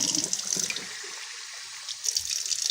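Water runs from a tap in a steady hiss and splash that thins out midway and then picks up again, close and fairly loud with nobody talking.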